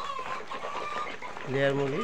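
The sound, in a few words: layer hens clucking on a farm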